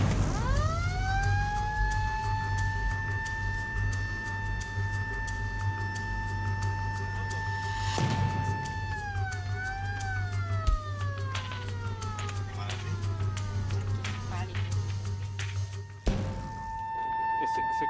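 Ambulance siren wailing in a long sustained rising and falling tone on a drive through Port-au-Prince toward the Cité Soleil slum, loud and steady over a low engine rumble, with a brief burst of other noise near the end.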